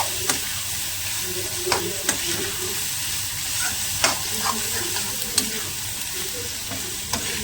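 Prawns stirred and tossed in a hot frying pan, a steady sizzle of frying under repeated sharp clinks and scrapes of the spoon against the pan, close and continuous.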